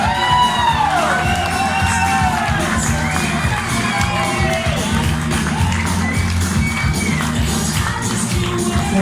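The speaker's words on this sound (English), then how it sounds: "Cheer going around right in the room." Wedding reception guests cheering and whooping together in a room, a dense, loud crowd roar with excited shouts rising over music throughout.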